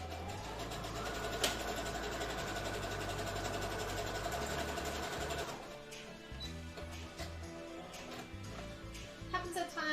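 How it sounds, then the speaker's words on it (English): A sewing machine stitches cosplay fabric in a steady, loud mechanical whir for about five and a half seconds, then stops, leaving quieter rattles and clicks. "It does still feel off though when I'm sewing."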